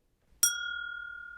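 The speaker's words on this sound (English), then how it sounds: "Soon it rang out loudly, and so did every bell in the house." A single bell struck once during a dramatic reading of Dickens' A Christmas Carol, a bright clear ding that rings on with a long, slowly fading sustain in otherwise quiet surroundings.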